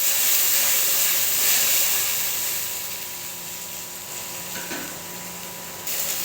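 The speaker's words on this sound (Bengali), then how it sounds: "পেঁয়াজ লাল লাল করে ভেজে নেওয়া হয়ে গেছে, এবারে পেস্ট করে রাখা মশলা দিয়ে দেব।" Browned onions with ground spice paste added sizzle and hiss steadily in a pan, a continuous bright frying texture with faint stirring clatter near the end.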